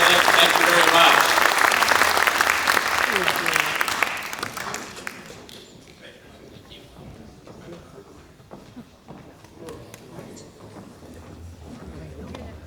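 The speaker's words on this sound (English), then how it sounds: "let's give a round of applause to the candidate" A room of people at a bar association candidates night gives a candidate a round of applause, loud clapping that fades over several seconds into murmuring and voices.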